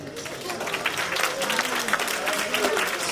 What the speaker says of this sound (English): Let's clap her all the way to her seat.